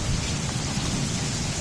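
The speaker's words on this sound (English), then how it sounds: "Hail's been falling now for about 2 minutes" Hail pelts down during a September thunderstorm in Carol Stream, Illinois, making a dense, continuous roar of pellets striking surfaces at close range. No voices are heard.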